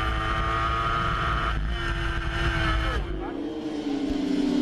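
Superbike engine at racing revs, captured from an onboard camera at Wakefield Park Raceway, a steady loud drone that shifts pitch near the end as the bike changes gear.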